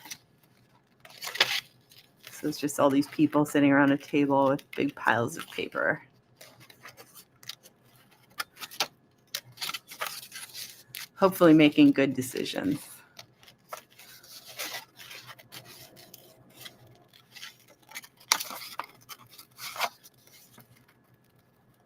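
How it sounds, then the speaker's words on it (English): Scissors snipping through paper at a craft table during an art journaling session, a run of close, dry cuts in two bursts with a voice talking between and over them. "So maybe I'll cut them out a little bit."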